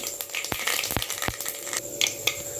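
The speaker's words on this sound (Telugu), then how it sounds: "ఆయిల్ వేడెక్కింది జీలకర్ర వేసుకున్నాం ఇప్పుడు కొద్దిగా ఆవాలు వేసుకున్నాం" Cumin and mustard seeds sizzle and crackle in hot oil, a close steady frying hiss broken by a few sharp pops.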